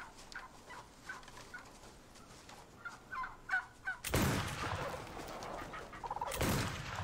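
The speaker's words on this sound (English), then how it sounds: "Oh, turkeys, get them." Several short turkey gobbles from the TV series Outlander sound at a distance, followed by two loud, sudden gunshot-like bursts that cut through the scene.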